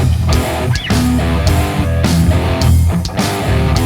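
Distorted metal guitar chords played with tight rhythmic timing, heavy palm-muted chugs and short bursts cut cleanly between hits, loud and alone.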